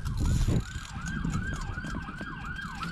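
A wailing police siren rises and falls repeatedly in quick cycles over rumbling traffic noise, loud and fairly close.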